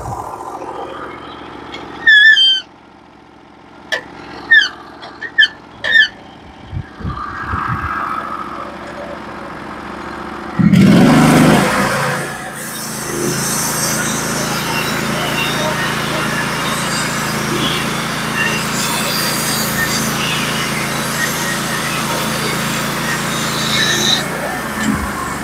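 A Norwood HD36v2 sawmill fitted with new roller guides cuts a cedar log. Talk and scattered clanks come first, then the engine surges partway through and the saw runs loud and steady to the end.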